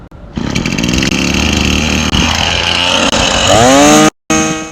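A gas string trimmer engine catches and runs, a loud, close, buzzing two-stroke drone holding steady with brief throttle dips, then revving up before a short cut-out and restart.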